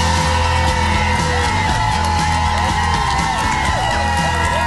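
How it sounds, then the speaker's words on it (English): Crowd on an outdoor TV studio plaza during a morning broadcast, cheering and whooping loudly and continuously, with overlapping yells and shouts close by throughout. "Got a great crowd on the plaza again today"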